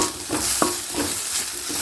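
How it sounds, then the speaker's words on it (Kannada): Turmeric, chilli powder and garam masala frying in a pan, with a few quick stirring scrapes over a soft, steady sizzle heard up close. "ಇಷ್ಟು ಹಾಕ್ಕೊಂಡು ಫ್ರೈ ಮಾಡ್ಕೊಳ್ಳೋಣ"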